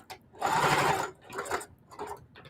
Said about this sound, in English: Then I'm going to sew down this side.